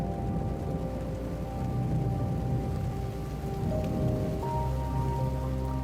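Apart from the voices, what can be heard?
heavy rain and thunder battering down on a boat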